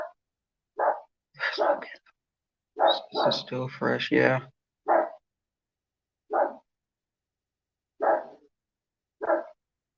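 A pet dog gives short, separate barks at uneven intervals, loud and near in an otherwise quiet room, with a person speaking briefly between them.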